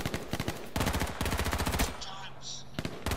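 Rapid automatic gunfire from the battle royale game H1Z1 in duo squads, loud bursts of rattling shots that stop and restart, with a brief quieter gap and faint tones between volleys.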